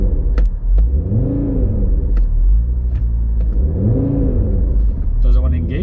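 A 2020 Audi RS3 engine revs hard during a launch attempt, rising and falling in two long sweeps over a steady low rumble with a few clicks, heard close from inside the car.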